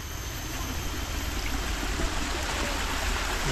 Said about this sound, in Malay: Ada sungai, nice.